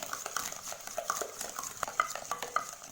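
Eggs and sugar are whisked by hand in a bowl, a steady run of quick scraping, tapping strokes against the bowl's sides with small clinks, close and fairly quiet, no talking.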